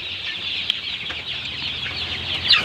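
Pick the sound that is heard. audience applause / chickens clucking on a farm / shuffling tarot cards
chickens clucking on a farm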